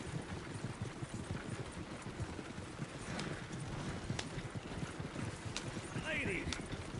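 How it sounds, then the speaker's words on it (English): Horse hooves drum in a rhythmic, fairly quiet gallop in the video game Red Dead Redemption 2, under faint wind and murmured voices. "mi caballo me está persiguiendo"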